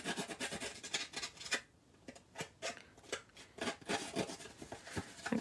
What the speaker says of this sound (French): Fait que ça se fait quand même bien avec un ciseau, là.